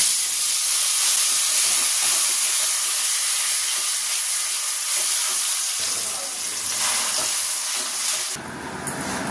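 Taro (kochu) dropped into hot oil already holding dried red chilli and whole cumin seeds, giving a steady loud broadband sizzle and hiss that shifts as pieces settle and are stirred, with a brief quieter dip near the end.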